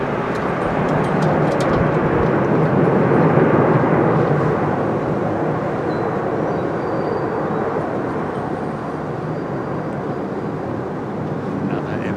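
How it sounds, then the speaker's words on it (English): An Emirates airliner touches down at a windy Heathrow Airport with a loud, sustained engine roar and rumble that swells early and then slowly eases, mixed with wind noise. "Another Emirates touches down."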